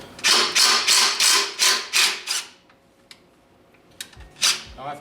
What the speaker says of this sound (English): So we loosen up this pulley bolt.